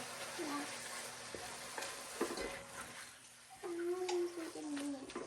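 Sofrito vegetables for an Italian Bolognese sauce sizzle in a pan, a continuous close hiss with occasional stirring knocks, while a voice speaks briefly and tonal whines are heard in the background.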